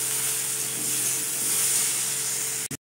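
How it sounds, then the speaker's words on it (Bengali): Vegetables with salt and turmeric sizzle steadily in a hot pan, a dense close frying hiss with faint stirring, ending in a brief clatter; no talk. "লবণ আর হলুদটা দেওয়ার পরে আমি আরও কিছুক্ষণ ভালো করে ভেজে নিয়েছি"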